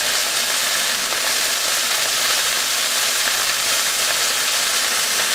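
Corned beef brisket searing in hot oil in a pan, a steady, loud, close sizzling hiss that holds evenly throughout with no pauses or talk.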